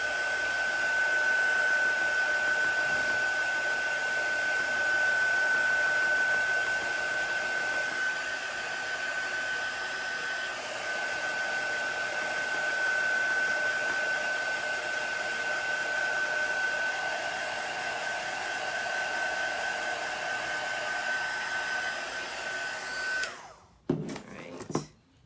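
A hair dryer runs steadily and close for over twenty seconds, drying chalk paste on a Chalk Couture transfer, its constant whooshing drone carrying a thin whine before it clicks off and a few handling knocks follow.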